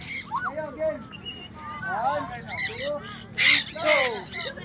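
Imported competition birds, pikoy among them, chirp, squawk and whistle in rapid overlapping bursts at a crowded bird contest, loud and close, with some honking-like calls mixed in.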